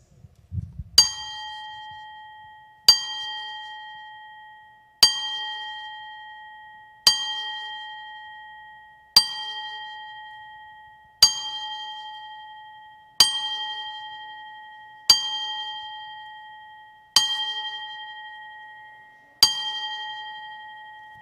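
A clear bell rings ten times at steady intervals of about two seconds for a ten-bell salute at a wrestling event, each strike bright and sustained, decaying slowly into silence.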